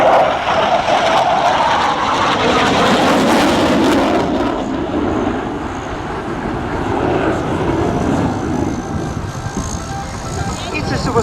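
A Tornado supersonic jet flying at an air show, a loud sustained broadband engine roar that stays steady and strong throughout, with faint speech mixed under it.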